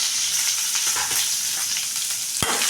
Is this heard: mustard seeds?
yes